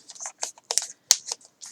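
A pair of old scissors snips through paper in about seven quick, crisp cuts with short pauses between them, close and fairly quiet, with no talking.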